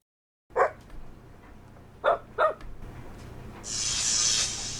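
Three short dog barks sound as a notification alert from a LaMetric Time Wi-Fi clock, one then a quick pair, followed by a brief bright hiss.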